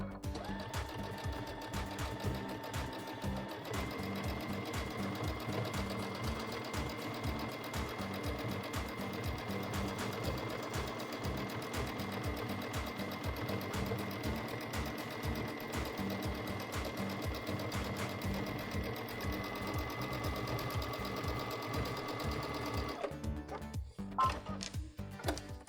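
A Chorus sewing machine stitching steadily during free motion quilting, its rapid needle chatter running continuously and close for most of the span before stopping near the end, with no talking.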